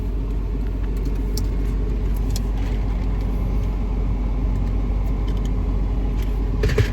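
Interior of a car driving, a steady low rumble of engine and road noise with faint rattles and clicks, no talking.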